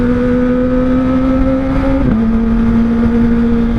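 A Kawasaki ZX25R motorcycle with an R9 Zeta exhaust holds a loud, steady engine note with a high-pitched drone, then dips briefly in pitch partway through, as if shifting or easing off, before settling again.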